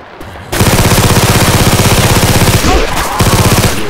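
Rapid automatic gunfire with frag rounds in the Left 4 Dead 2 zombie shooter roars in a loud, continuous burst of evenly spaced shots, briefly dipping before resuming until the end.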